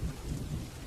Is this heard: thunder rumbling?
yes